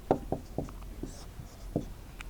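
Chalk or marker strokes on a classroom board during a Class 10 height-and-distance maths lesson, a few short taps and scrapes in an irregular rhythm, close and fairly quiet with no talk.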